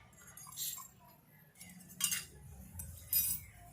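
A spoon clinks against a plate a few times, with light, sharp taps spaced irregularly over a quiet background.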